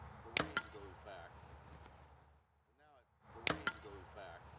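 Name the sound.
carbon arrow shot and breaking in torture test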